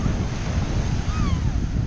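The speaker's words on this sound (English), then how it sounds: "let's look out there at the waves" Ocean waves wash onto a beach in a steady, loud roar of surf with wind buffeting the microphone throughout the short stretch.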